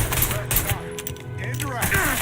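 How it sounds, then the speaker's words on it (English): Gunshots in Mafia III, a couple of sharp cracks within busy game sound, brief and close, with some talk. "Boy knows how to shoot."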